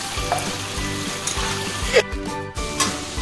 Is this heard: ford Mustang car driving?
no